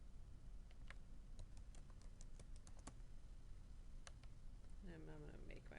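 Someone types a password on a computer keyboard during a software installation: a run of quick, irregular clicks that pause briefly and resume, then a voice starts talking near the end.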